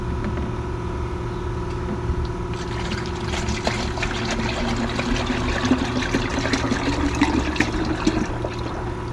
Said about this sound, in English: and I'll just pour it in there.